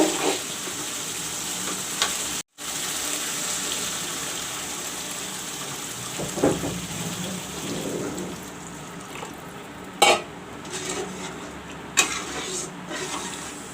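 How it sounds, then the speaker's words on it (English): Water is poured into a pot of browned onion, tomato and masala gravy for a katla fish curry, a steady rushing pour over soft frying sizzle with a few clinks. "now I will add some water"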